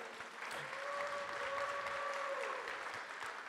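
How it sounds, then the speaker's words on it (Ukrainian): Audience applause at an urban forum session following a presentation, a steady wash of clapping from a large crowd with a faint tonal hum running underneath for several seconds. "Давайте гучніше подякуємо за презентацію. Давайте більше оплесків."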